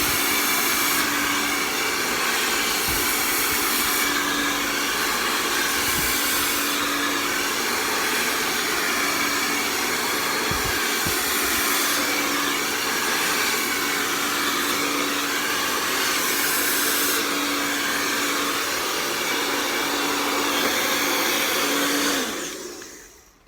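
A hairdryer blows on hair in a long, loud, continuous whirring hiss with a steady tone, its airflow wavering slightly before switching off at the end.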